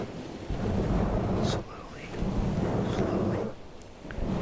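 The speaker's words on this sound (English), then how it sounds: "fall asleep to the sounds of the seagulls, of the wind, of the trees, of the ocean" Ocean surf and wind sweeping past trees form a steady, loud roar that swells and briefly eases twice, with no voices present.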